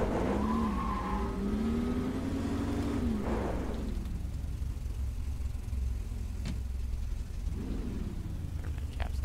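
A compact car in a racing video game revs its engine, then brakes hard into a long tire squeal and skid, with engine rumble continuing loudly throughout and a second shorter squeal later.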